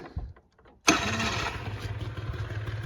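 An old moped engine, left in a basement for years and refilled with new gas, catches abruptly after a few quiet clicks and settles into a steady, buzzy idle, close and loud.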